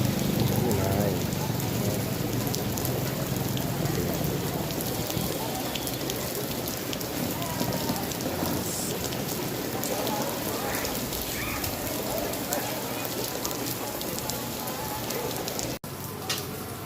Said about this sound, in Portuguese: Chuva, a chuva chegou.